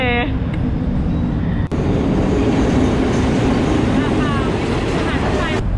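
A train rumbles loudly and steadily, with metallic squeals and a sharp clank partway through, as it rolls into a station in Thailand on the line to Chiang Mai.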